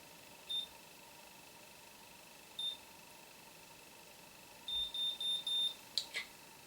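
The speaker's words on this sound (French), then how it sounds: "j'attends les 3 bips pour lâcher la mèche" Faint high electronic beeps from a Babyliss Perfect Curl curling iron: one, then another, then a quick run of several beeps close together, over a low background hiss.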